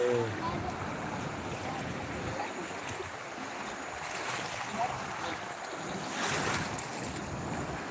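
The Machchhu river at Morbi runs in flood, a steady broad roar of rushing water with wind buffeting the microphone throughout.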